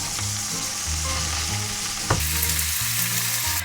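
Oil heating and sizzling in a frying pan while bacon lardons cook, a steady close crackle with low bubbling underneath and a brief louder burst partway through.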